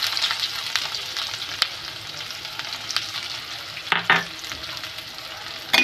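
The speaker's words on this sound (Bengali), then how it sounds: "পেঁয়াজ কুচি দিয়ে ভালো করে পেঁয়াজটা লাল করে নেব।" Chopped onion fries in hot oil with panch phoron spices, cooking for a Bengali spinach and prawn dish. The sizzle is a steady, bright crackle with occasional stirring clatters, close up, and no one speaks.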